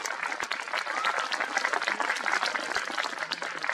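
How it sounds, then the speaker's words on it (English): A gathered audience gives a round of applause, a steady, dense patter of many hands clapping at moderate distance, with a couple of sharper nearby claps standing out from the wash. "let's give them a round of applause"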